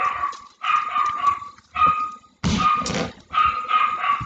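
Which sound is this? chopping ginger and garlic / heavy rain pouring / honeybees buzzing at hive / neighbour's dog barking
neighbour's dog barking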